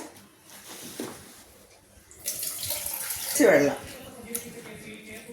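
Water runs and splashes into a stone pot for a couple of seconds while making Kottayam-style mango pachadi, with quieter handling sounds before it and a faint voice around it.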